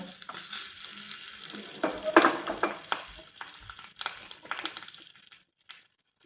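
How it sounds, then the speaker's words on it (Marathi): Crackling sizzle of dried red chillies frying in hot oil, with bursts of popping and spoon scrapes that fade out toward the end. "आता त्याच्यावरती फोडणी करते थोडीशी लाल मिरच्या"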